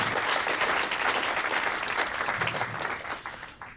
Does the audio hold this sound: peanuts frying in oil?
no